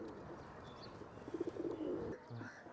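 Pakistani Griva female pigeon cooing, a low throaty rolling coo in short bursts near the middle, with faint background bird chirps and a brief soft final coo.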